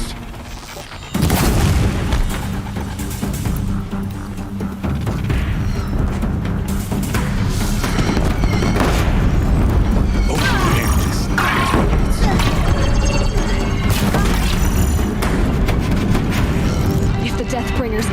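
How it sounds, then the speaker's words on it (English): Deathbringer war machines in Horizon Zero Dawn fire explosive shots, a dense stream of loud, booming blasts and heavy mechanical crashes that roll on steadily after a sudden start, with a voice in the mix. "If the Deathbringers keep firing, this bridge will go!"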